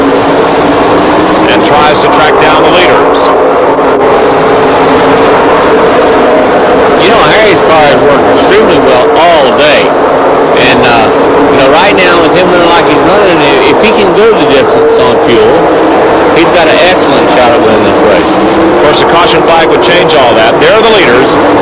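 Stock cars race at Pocono, with Harry Gant pulling away from Bobby Allison through the tunnel turn. Loud, continuous engine roar fills the scene, and a commentator talks over it throughout.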